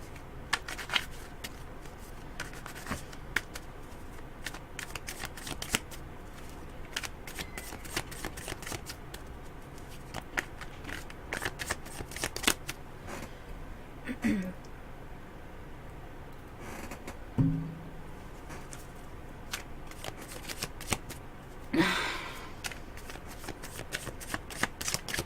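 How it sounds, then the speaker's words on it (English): Tarot or psychic reading cards being shuffled at close range, a steady stream of dense riffling and slapping taps that continues throughout with no talk over it. "Lisa, let me just shuffle those cards a little bit more because I know they're not shuffled good"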